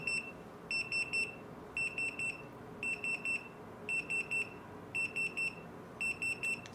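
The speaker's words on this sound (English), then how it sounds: "I will change them to beep so that you will hear clearly." Quiet, steady electronic beeping from a Retekess TD173 pager in quick bursts of three or four high tones, repeating at regular intervals over faint background hiss.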